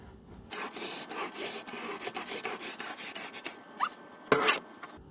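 A sponge mop rubs paint across an RV camper ceiling, giving a soft, scratchy swishing that comes in uneven strokes, faint and close, with a couple of sharper scrapes near the end.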